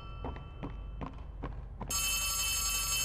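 Telephone ringing in the Poppy Playtime Chapter 3 video game, preceded by several dull knocks, then a loud sustained electronic ring that begins partway through and continues to the end.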